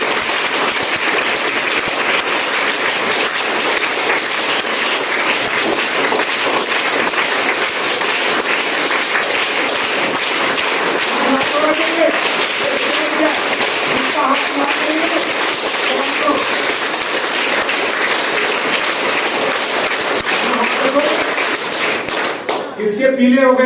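An audience claps loudly and steadily for the whole stretch, with dense continuous applause and a few thumps near the end, and some voices mixed in.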